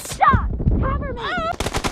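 Video game gunfire with a pistol, a quick string of close, loud shots mixed with shouted voice lines.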